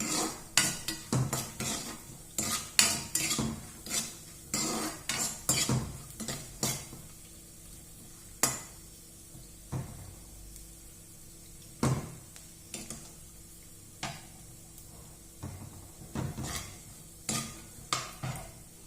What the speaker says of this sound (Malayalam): അണ്ടിപ്പരിപ്പ് വറുത്ത് വയ്ക്കട്ടെ.